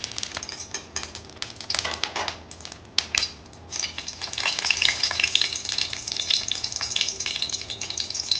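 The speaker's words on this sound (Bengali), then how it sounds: "তেল গরম হয়েছে আমি শুকনো লঙ্কা দিলাম সেটা কালো জিরে দিলাম" Dried chillies and nigella seeds hit hot mustard oil, setting off a bright crackling sizzle with spoon clatter early on that swells into a loud, steady hiss.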